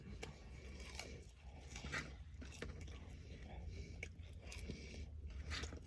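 Someone chews a Big Mac burger and fries up close, with soft wet bites and crunchy chomps coming in an uneven rhythm, quiet and intimate with no talking.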